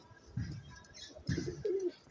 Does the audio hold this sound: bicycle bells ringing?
no